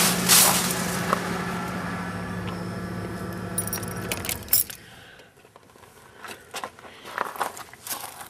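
A 1989 Lincoln Town Car engine idles steadily, then cuts off as the ignition key turns; keys jangle loudly at the start and again near the end, with quieter rustling once the engine stops.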